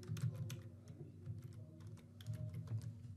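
Quiet, steady typing on a computer keyboard while entering text into a Google Forms admission form, with soft rapid key clicks and no talk.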